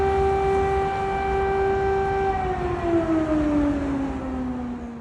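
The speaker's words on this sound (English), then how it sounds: "The wail of air raid sirens became part of the fabric of life" An air raid siren in Ukraine wails steadily on a sustained tone, its pitch slowly sliding downward as it winds down.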